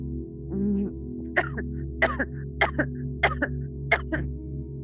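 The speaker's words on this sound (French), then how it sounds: "Désolée si je vais tousser un peu plus" A person coughs five times in a slow, evenly spaced series, close and fairly loud, after a brief throaty vocal sound at the start.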